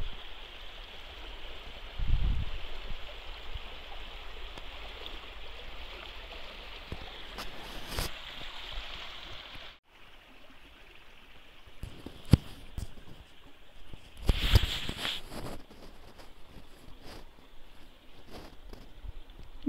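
A forest stream flows steadily beside a walking path, a constant rushing hiss of water heard close, with a few brief bumps and handling knocks breaking through, and no talking.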